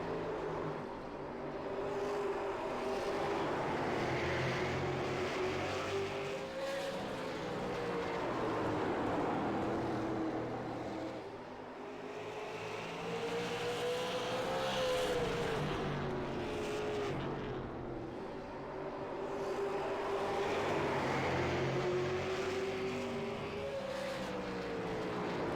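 Race cars circle the 5 Flags Speedway track in the iRacing sim during a derby race, engine drone swelling and fading in repeating waves as the pack passes, steady and fairly distant with no talking.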